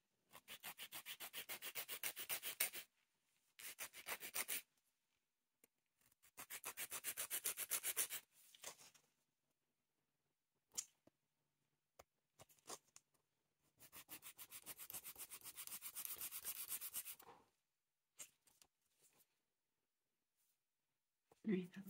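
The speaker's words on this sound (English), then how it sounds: "Now we're gonna go in with our sanding band and go over the top while I rough it up the tip." A sanding band on an electric nail drill buffs the top of a soft gel nail extension, roughing up the tip in several bursts of steady, close hissing abrasion separated by pauses, with faint talk around them.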